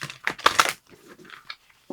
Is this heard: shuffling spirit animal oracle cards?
yes